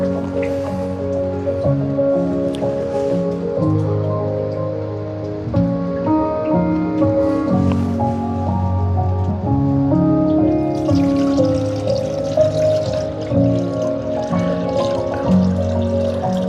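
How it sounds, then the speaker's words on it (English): Cold brew coffee trickles and drips steadily into a final container for a long stretch, with gurgling, shifting tones and a few soft clinks. "we can continue and pour the coffee into the final container"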